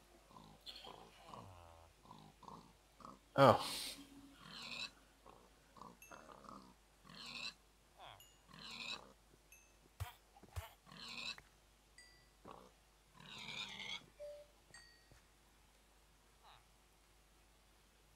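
Blocky pigs oink a few times in a Minecraft-style Lucky Block Wars game, short grunty calls scattered among game sound effects, with people talking over them throughout.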